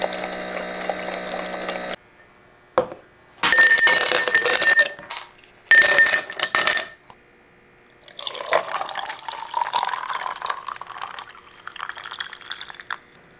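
Coffee brewing in a home kitchen machine: a hum, two loud bursts of pumping and gushing liquid, then a long bubbling, trickling stretch as the cup fills, with no talking.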